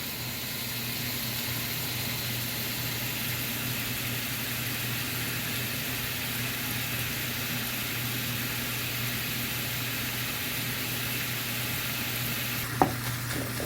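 Ground beef sizzles in a pan over medium heat, a steady, even frying hiss that continues for over ten seconds with one brief clatter near the end and no talking.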